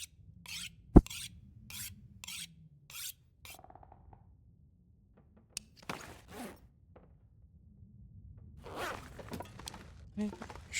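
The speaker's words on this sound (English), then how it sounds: "Okay, sharpen the thing up." Sharpening a tool in the survival video game The Long Dark: a run of quick, regular rasping strokes, then scattered softer scrapes and rubs, all fairly quiet with no talk over them.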